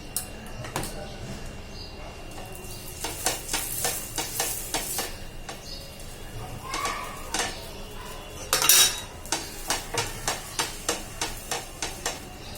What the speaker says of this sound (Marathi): तूप घालते दोन चमचे तूप घालते आणि इकडे पाव गरम करण्यासाठी थोडं